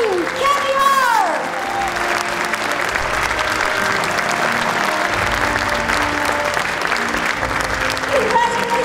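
Sustained applause from an audience fills an award ceremony, loud and continuous, with tonal music sweeping over it at the start and end.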